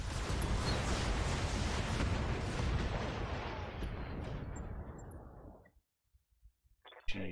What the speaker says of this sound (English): Firing on enemy.